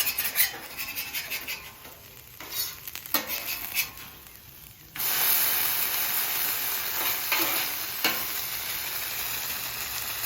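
Butter-topped hash browns sizzle on a flat top grill, a steady close frying hiss that jumps louder about halfway through, with occasional spatula scrapes and clinks.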